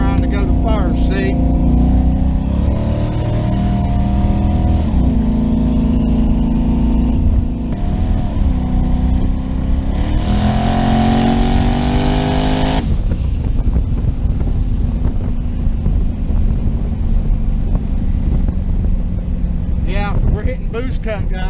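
A car engine drones loudly with the transmission slipping out of second gear, its pitch rising and falling unevenly while wind buffets the microphone throughout.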